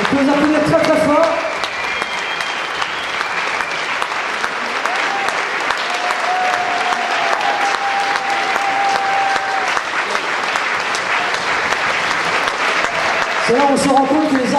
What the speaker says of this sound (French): On peut les applaudir très très fort.